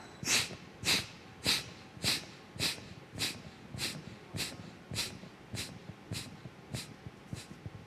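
Air is forced out through the nose in short, sharp bursts during a diaphragm breathing exercise, about a dozen evenly spaced puffs, strong at first and then gradually softer, close to the microphone in a quiet room.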